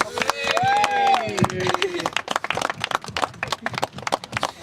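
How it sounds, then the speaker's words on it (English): Wedding guests at Loch Lomond applauding after a speech, with a burst of clapping and cheering from the crowd, loud and close, mixed with a whoop and voices. "Round of applause"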